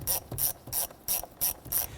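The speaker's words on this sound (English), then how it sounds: "There is a hose clamp here. It's a 5/16, or you can use a flathead screwdriver. You want to go ahead and loosen this clamp." A 5/16 ratchet loosens a hose clamp on the air intake tube of a 2011-2021 Jeep Grand Cherokee 3.6L V6, six quick, evenly spaced clicking pawl strokes, close and crisp, with no speech.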